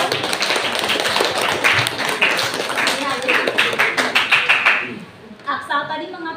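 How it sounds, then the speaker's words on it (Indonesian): Students in a classroom clap in applause for a classmate, a dense burst of hand claps filling the room for several seconds before fading, with a little voice afterward. "Kasih aplaus untuk Arga."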